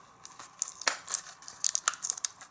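A Hot Wheels toy car is pulled out of its plastic packaging after a zip tie, giving soft crinkling and crackling with scattered sharp snaps, close and fairly quiet.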